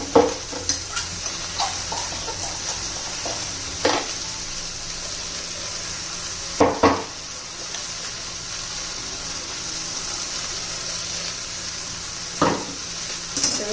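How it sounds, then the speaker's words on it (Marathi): Spicy okra being stirred with masala in a pan, a steady low sizzle broken by several sharp scraping clinks of the spoon against the pan, close and moderately loud with no talking. "व्यवस्थित मिक्स करून घ्यायचं आहे"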